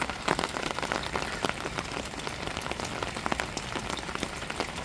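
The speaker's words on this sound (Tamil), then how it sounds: "இங்கே பாருங்கள், மழை தேஞ்சிட்டு இருக்குது." Steady rain falling on a village, pattering densely and continuously on nearby surfaces, close and even, with no voices.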